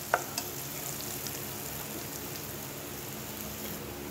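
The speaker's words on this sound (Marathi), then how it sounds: "छान मस्त की तेलामध्ये हळद फ्राय करून घ्यायची।" Turmeric frying in hot oil for a raw mango dal, a steady close sizzle and hiss running throughout, with a couple of brief clinks near the start and no talking.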